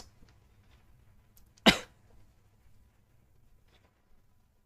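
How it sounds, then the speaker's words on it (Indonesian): A single sharp cough bursts out, close and loud, against an otherwise near-silent room with a faint low hum. "Gak tau gue juga akhirnya lagi batuk nih."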